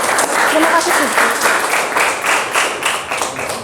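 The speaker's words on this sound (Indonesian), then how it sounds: "Kita berikan tepuk tangan untuk kelompok Sidki" A classroom of students applauds a group, lively uneven clapping from many hands close by, with pulsing bursts and voices mixed in.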